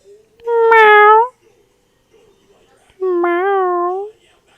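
Two long, clear meows, close and loud, separated by a quiet pause.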